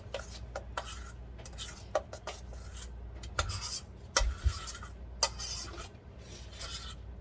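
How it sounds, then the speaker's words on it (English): A spoon scrapes and knocks steadily against a bowl while flour is stirred into cake batter, with irregular soft clicks and rubbing strokes, close and fairly quiet. "Stirring in the last bit of flour here."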